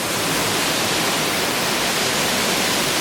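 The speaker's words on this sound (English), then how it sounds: "Goes under the waterfall." A waterfall roars steadily up close, a dense, unbroken rush of falling water that holds the same loud level from start to finish, with no voices over it.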